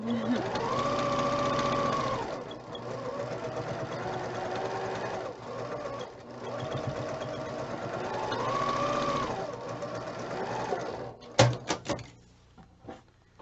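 A sewing machine stitching a flying geese quilt block for a Christmas block-of-the-month quilt, running in several whirring bursts with short pauses, close by, ending in a few clicks and knocks of fabric handling.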